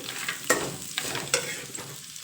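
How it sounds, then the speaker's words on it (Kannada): Onions frying in a pan for churumuri chaat, a constant close sizzle with a few sharp scrapes and taps of a spatula. "ಇದು ಸ್ವಲ್ಪ ಫ್ರೈ ಮಾಡೋಣ"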